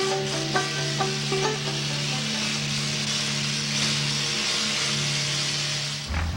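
An antique tractor engine at a state qualifying tractor pull in Chardon, Ohio, giving a steady droning hum with a few rising tonal whines near the start, heard from a moderate distance.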